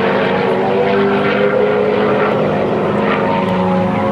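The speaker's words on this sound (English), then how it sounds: "that P-51 was a premier propeller-driven aircraft that protected the skies and won the wars" A propeller-driven P-51 fighter flies over an airshow, giving a loud, steady engine and propeller roar that fills the whole stretch with no break.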